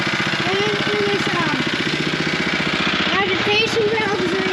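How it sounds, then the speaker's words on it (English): A gas-powered farm pump engine runs loud and close with a fast, steady chugging rhythm and mechanical rattle, continuous throughout, with faint voices under it. "this pump right here, the gas powered pump"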